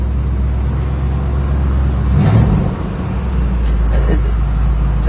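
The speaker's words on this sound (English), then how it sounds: "Nice running car." A 1970 Plymouth Cuda with an automatic transmission runs steadily, a continuous low engine rumble with a slight swell midway, heard close up.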